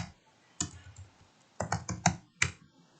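Keys clatter on a computer keyboard as a word is typed, a short irregular burst of close, crisp clicks after a single opening tap, with no speech.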